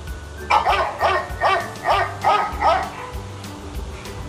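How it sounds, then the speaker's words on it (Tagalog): A small dog barks repeatedly in a steady rhythm, about six short yips in a row, fairly close and clear. "Ang dog or aso ay may tunog na"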